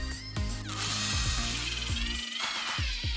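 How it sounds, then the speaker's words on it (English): A power drill drives fasteners through a trolling motor base plate into a boat deck in repeated short whirring bursts, its pitch rising and falling as each screw seats, loud and close with no talk. "just drill this to the deck of the boat"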